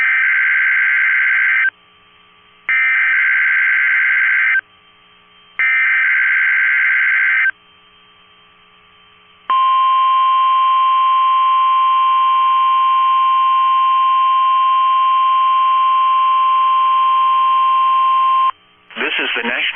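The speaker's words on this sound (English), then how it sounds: "The tones you just heard were a test of the specific area message encoding and tone alert systems." NOAA weather radio alert test: three loud bursts of buzzy data tones separated by short gaps, then a long steady tone lasting about nine seconds before a brief final chirp, all played alone with no talking.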